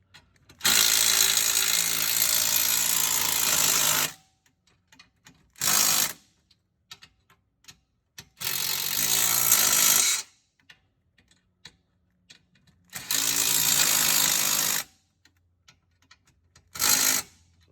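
Bursts from a power impact tool drive down bolts on a 6-inch A-arm lift kit for a Club Car Precedent golf cart, five separate loud rattling runs, some long and some short, with quiet gaps between them.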